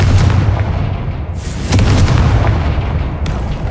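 The Confringo fire-blast spell in the Hogwarts Legacy video game produces loud, heavy explosive booms in quick succession, with rumbling, crackling bursts filling the whole stretch.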